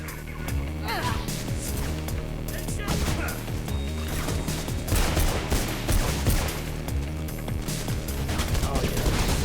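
Machine gun fire in the video game Mirror's Edge, sustained rapid bursts of loud automatic shots mixed with crashes and impacts, continuous and dense across the whole span, with voices talking over the gunfire.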